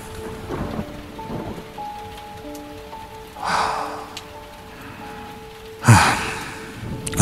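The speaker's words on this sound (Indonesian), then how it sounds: "hujan turun di tengah malam itu." Rain falls at midnight as a radio drama sound effect, a steady wash of downpour with rumbles of thunder swelling twice, the second burst loud and close near the end, with faint tonal hum beneath.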